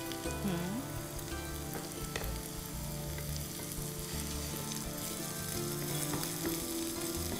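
Chopped green chili going into vegetable fried rice in a pan, giving a continuous sizzling fry with light stirring clatter throughout, no talking.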